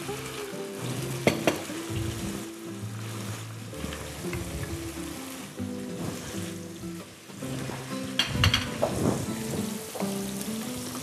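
A little water added to a pan of mullet and onions, a bright crackling sizzle that swells in bursts as the liquid hits, close and fairly loud over about eleven seconds.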